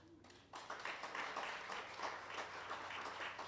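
At the official launch of youth games in Windhoek, an audience bursts into clapping after a speech statement; after a quiet start, a full, lively round of many hands rises and carries on steadily.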